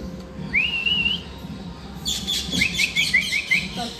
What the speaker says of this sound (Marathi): हे बघा पोपट आले इथं.